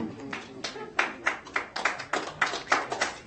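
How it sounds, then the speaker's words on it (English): Applause from an audience at a school district board of trustees meeting: a small group clapping in uneven, distinct bursts, close and fairly loud, with no talking over it. "please keep the applause down"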